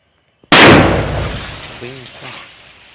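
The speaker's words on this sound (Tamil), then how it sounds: "மேலே போய் வெடிக்கும் வான வெடின்னு இருக்கு" A Sivakasi sky firecracker set off for Diwali bursts in the air with one sudden, loud bang that rolls off in a long echoing decay, followed by faint voices.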